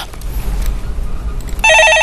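A telephone rings loudly during a live Korean stock-market call-in broadcast, its electronic ring cutting in sharply near the end over a low studio background.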